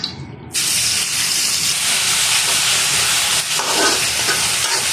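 A generous amount of onions hits hot oil in a pan and bursts into a loud, steady sizzle that holds evenly, close and with no talking.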